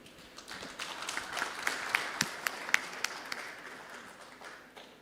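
An audience claps for a panel discussion at a conference, a moderate round of applause with scattered sharper claps that rises, peaks and tapers off, heard from some distance.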